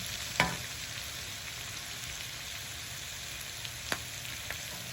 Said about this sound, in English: And I'm going to stir all the time